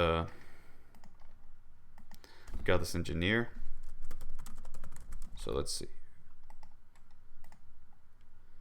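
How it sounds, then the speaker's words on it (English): Computer keyboard typing in quick bursts of clicks and key taps, fairly close, while someone talks intermittently over it. "we're gonna start typing some names out"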